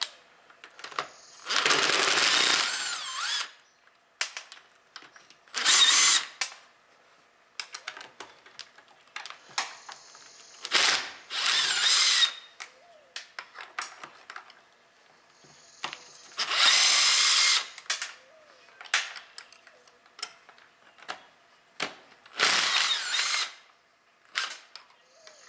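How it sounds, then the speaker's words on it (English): Power tool on an Allis Chalmers D Series tractor power director spinning out half-inch tab bolts in short, loud whirring bursts separated by quiet pauses, close up and with no talking. "Now we'll go around and start taking the bolts out of these tabs."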